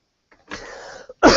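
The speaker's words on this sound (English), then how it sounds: "I want to pause for a moment, 1, because I'm coughing" A person coughs during a live talk: a faint catch, then a sustained rasping, throaty cough, a small click, and a sudden loud harsh burst at the end, close and alone without speech.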